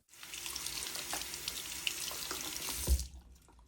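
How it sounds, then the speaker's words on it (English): Water from a tap pours steadily over soapy game controller parts being rinsed, a close hissing splash with small clicks and a brief knock near the end before it cuts off. "then rinse until all soap is gone"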